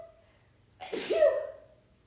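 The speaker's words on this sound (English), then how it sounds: "I'm gonna sneeze." A single close, loud human sneeze, preceded by a quick sharp intake of breath and trailing off into a soft exhale in an otherwise quiet indoor room.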